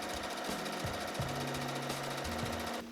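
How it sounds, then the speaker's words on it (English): Sewing machine stitching around the perimeter of a pocket on an overall dress, its rapid needle chatter running in short bursts with brief pauses and speed changes, close and fairly quiet, stopping just before the end. "I'm just going to sew around the perimeter of the pocket"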